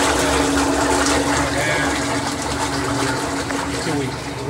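A powered mixer with strong torque churns sugar water for bee feed in a 10-gallon container, giving a loud, steady, turbulent wash of swirling liquid with a constant mechanical hum underneath and no pauses.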